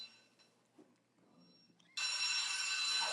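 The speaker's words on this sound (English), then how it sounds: "No, it's my alarm so I can like actually wake up." After a quiet start with faint room noise, a phone alarm bursts in abruptly and rings loud and close, a bright continuous electronic tone that keeps sounding to the end.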